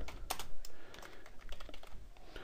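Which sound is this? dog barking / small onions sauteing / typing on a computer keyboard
typing on a computer keyboard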